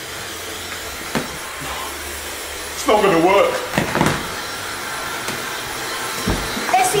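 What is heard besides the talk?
hair dryer blowing on a wet MacBook Pro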